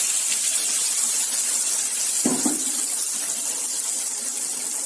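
Water from a rinsed grinder jar is poured into a curry, a steady loud splashing rush running throughout with a brief gurgle partway through, no voices.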